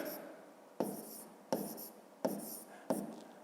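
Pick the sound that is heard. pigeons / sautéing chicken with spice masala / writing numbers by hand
writing numbers by hand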